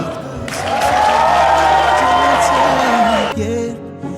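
Wedding guests at an Armenian wedding clap for the groom's side in a loud burst of applause and cheering that lasts about three seconds over background music, then quickly dies away.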